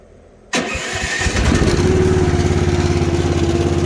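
A Hightop HT10 one-ton mini excavator's small engine cranks and catches, then settles into a loud, close, steady idle with a rapid even pulse.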